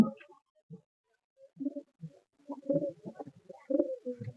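Giribaz and Madras pigeons, among them young birds, coo in soft, close, low bursts separated by short pauses in a quiet setting, growing busier toward the end; no talk.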